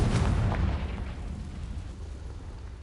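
Confringo explosive spell in the video game Hogwarts Legacy, a single booming blast at the start that rumbles and fades away over a couple of seconds.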